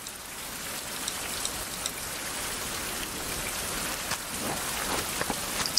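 Steady rain falls in the survival game Survival: Fountain of Youth, an even, dense hiss of drops with occasional louder patters throughout, with no voices.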